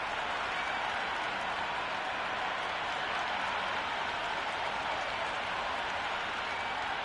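A cricket stadium crowd at a T20 World Cup match between India and Netherlands claps and cheers, a steady broad roar of applause that holds at an even level throughout with no pauses.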